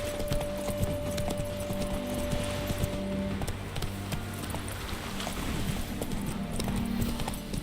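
Roach the horse gallops in The Witcher 3, a steady rhythmic clip-clop of hooves under a game's ambient music and a faint metallic jingle of tack, close and continuous throughout.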